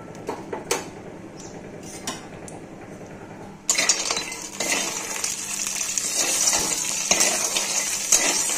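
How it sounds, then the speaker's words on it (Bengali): Lentil dumplings (bori) go into hot oil in a wok: a few light metallic clinks, then a steady, close, broadband sizzle that keeps going and slowly grows, with no voices. "বড়িগুলোকে আমরা কড়াইয়ে দিয়ে দিচ্ছি, এবার ভেজে নেব।"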